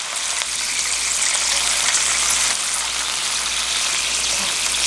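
Battered vegetables deep-frying in hot oil make a dense, continuous hiss, loud and close and steady throughout, with no speech.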